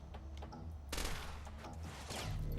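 Suppressing fire in a turn-based video game set on Mars, a faint crackle of gunfire that swells into a louder burst midway, with a steady low background hum.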